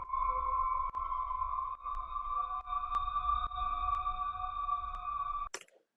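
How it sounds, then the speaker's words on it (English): A ghostly wailing sample plays in Ableton, with steady sustained tonal layers and a few faint ticks, loud and alone, then cut off by a brief burst near the end. "So a cool, like, ghostly wailing sound."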